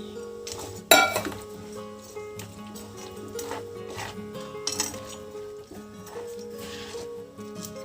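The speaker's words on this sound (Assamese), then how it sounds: "এতিয়া মই 5 মিনিটৰ কাৰণে ঢাকনি দি দিছোঁ" A metal lid set down on a cooking pot of dried fish curry with mustard, one sharp clink followed by faint scrapes and small knocks against a quiet kitchen background.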